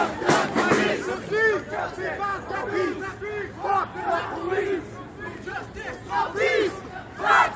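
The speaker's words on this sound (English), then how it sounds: "The crowd continuing eastward, moving past the police headquarters." An anti-austerity protest crowd marches eastward past a police headquarters, with shouting and chanting voices rising in repeated bursts over a steady murmur of talk throughout.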